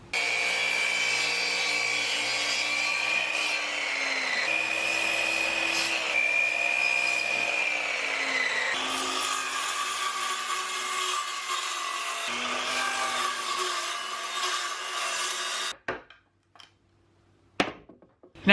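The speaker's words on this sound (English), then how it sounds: "I'm going to cut out this other piece here with my saw." A hand saw cuts through a wooden piece for a DIY mountain shelf, making continuous close rasping strokes with a steady rhythm before the sawing stops and a few knocks and handling sounds follow.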